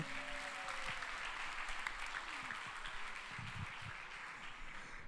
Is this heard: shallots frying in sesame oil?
no